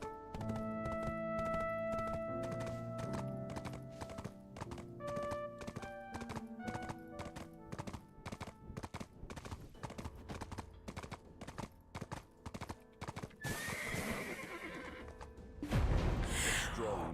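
Horse hooves clip-clop and a horse neighs in the Black Desert video game. The neighs ring out clearly early on, the hoofbeats run steadily underneath, and a louder burst of game noise comes near the end.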